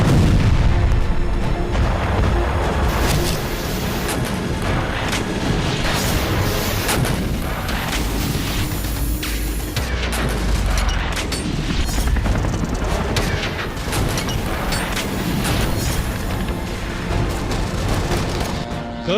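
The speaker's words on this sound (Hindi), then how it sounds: "क्रीमिया में हो रहे ये तमाम धमाके।" Explosions and blasts from drone and military attacks in Crimea, heard as dense, continuous booming and rumbling with repeated impacts and crackling gunfire-like bursts, loud throughout with no talk.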